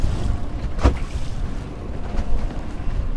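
A small skiff runs through wind-driven water chop in 14 mph winds, with a steady wash of water and engine rumble, heavy wind buffeting on the microphone and one sharp splash slap partway through.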